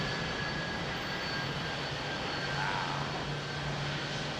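An EK31 jet airliner on approach to land at London Heathrow gives off a steady, broad engine roar that stays loud and even throughout, with no voices.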